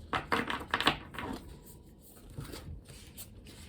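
Tarot cards are shuffled in quick riffling bursts, a crisp flurry of flicking paper, then a pause and a few softer shuffles near the end.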